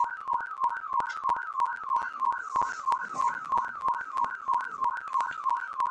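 Neighbor's alarm sounding outside, a rapid two-tone electronic warble repeating steadily and evenly at moderate distance, with no talk over it.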